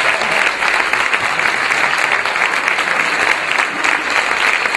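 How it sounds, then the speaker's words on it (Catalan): A school music concert audience applauds the teachers for Saint Cecilia's Day, a loud, dense and steady wash of clapping that lasts throughout without any voices. "Aplaudiments per als professors de l'escola"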